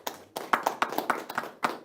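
Short burst of audience clapping at a housing construction forum seminar, a few seconds of uneven hand claps close by, without talk.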